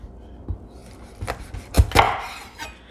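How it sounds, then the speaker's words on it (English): A knife chops a bell pepper on a cutting board for coleslaw: several sharp, close knocks at an uneven pace, with the last few coming quicker and louder, and no speech. "So let's chop this up."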